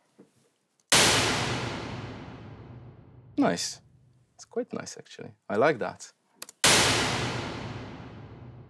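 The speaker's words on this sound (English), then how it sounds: "So that's a sweep that has been, you know, deconvolved to an impulse response." Plate reverb impulse response made by deconvolving a sweep: a sharp burst that decays in a long, dense, smooth wash, played twice, with brief speech in the quiet stretch between.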